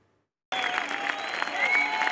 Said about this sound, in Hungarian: Hatalmas tömeg és lelkes taps fogadta a balettáncosokat a párizsi opera előtt.